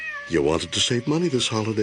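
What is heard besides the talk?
cat meowing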